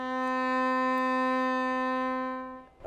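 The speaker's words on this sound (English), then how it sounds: "we have the middle C that starts on here and it sounds like this" Middle C bowed on a cello as one long sustained tone that holds steady for over two seconds before tapering off, close and alone with no talking.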